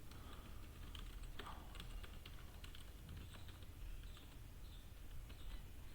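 Quiet, steady typing of code on a computer keyboard, soft rapid key taps continuing throughout with occasional mouse clicks, close and alone.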